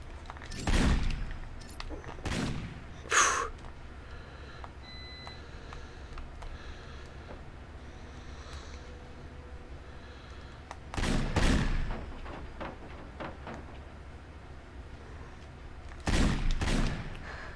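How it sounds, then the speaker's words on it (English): Gunfire in the PlayStation 2 game 24: The Game comes as several sharp, separated bursts of shots, spaced seconds apart over a quiet background hum. "I guess I'd have to go in and just shoot him."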